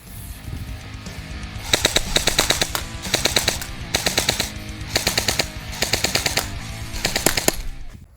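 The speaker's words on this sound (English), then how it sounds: "now let's shoot it in full auto" A homemade airsoft assault rifle fires in full auto, letting off about six rapid rattling bursts in a steady rhythm, loud and close, with no talk.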